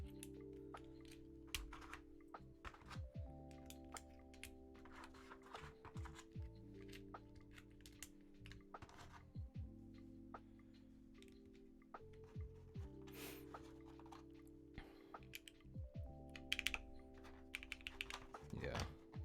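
Keystrokes on a Ramaworks Zenith mechanical keyboard fitted with an FR4 plate, quiet close clicks in quick irregular bursts with brief pauses between runs of typing.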